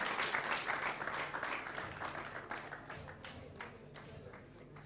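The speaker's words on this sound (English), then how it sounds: "Let's give another round of applause to our guest of honor for those words" Applause for the guest of honor at Jennipher Tumukunde's book launch, a steady wash of clapping from a modest room crowd that holds through and fades slightly, with no voices over it.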